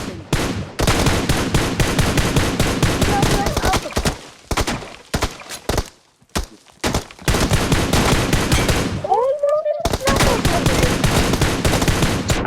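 Rapid bursts of video game gunfire crackle almost continuously, with brief lulls, one near-silent gap about two-thirds of the way in, and a short rising electronic tone before the shooting resumes. No one speaks.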